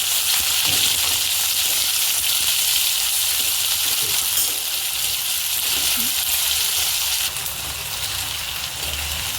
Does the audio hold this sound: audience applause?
no